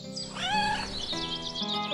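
A single drawn-out meow from a female cat, rising then falling in pitch, close and clear, with a faint tonal hum behind it.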